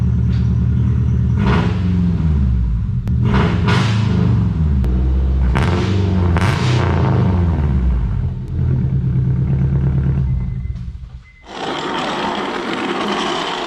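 A loud, raspy Honda engine with a homemade unequal-length header and no muffler revs repeatedly in sharp bursts over a deep idle rumble, then settles back into a rough, throaty idle.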